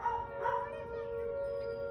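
Dogs bark and howl during a Whelen 4004 tornado siren test in Gurnee, Illinois, a few short yelps over a steady droning siren tone that holds through the moment.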